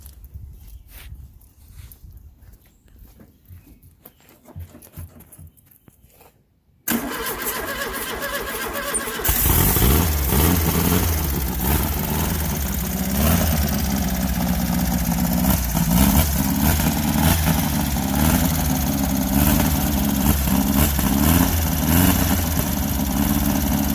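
A Volkswagen Baja Bug engine cranks and catches, then settles into a loud, rough, continuous running roar with slight revving fluctuations, close to the microphone.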